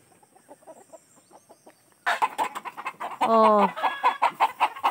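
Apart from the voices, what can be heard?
chickens clucking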